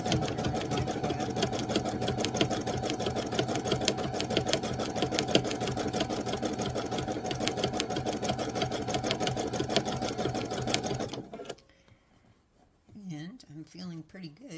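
A sewing machine stitches two pieces of fabric together for a Bali Bowl, running in a steady, loud, fast rhythm for about eleven seconds before stopping abruptly, after which a voice speaks alone.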